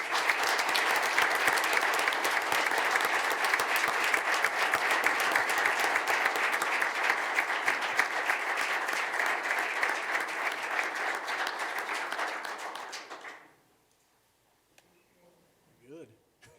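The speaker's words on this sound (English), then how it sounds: "we can all applaud that, I think" A township trustees meeting audience applauds in a full, sustained wash of clapping that holds for about thirteen seconds, then stops abruptly into near silence with a faint voice after.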